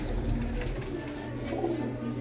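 Soft, throaty cooing of kept pigeons in Faisalabad repeats steadily at close range, a low rolling murmur with a little background hum.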